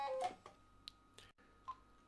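Telephone line tones sound while a call is answered, with a few faint beeps and short electronic blips, clicks and a brief dropout spread over a quiet line, with no talk.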